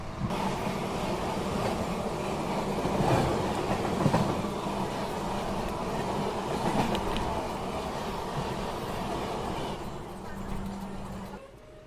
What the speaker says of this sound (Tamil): நம்ம ட்ரெயின் வந்து பார்த்தீங்கன்னா திருப்பூர் ஸ்டேஷனுக்குள்ளே அரைவல் ஆயிருக்குங்க